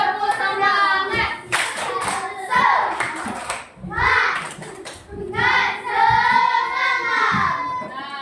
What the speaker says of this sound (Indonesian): Kasih tepuk semangat sama teman.